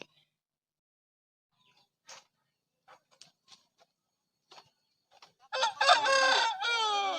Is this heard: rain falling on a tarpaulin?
no